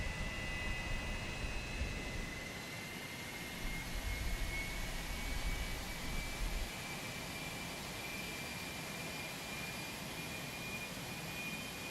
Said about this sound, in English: Those engine sounds are really, really nice.